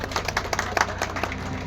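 Scattered audience clapping greets Haryana cabinet minister Aarti Singh Rao at an outdoor martyrs' memorial programme, with irregular, thin claps over a steady background hum.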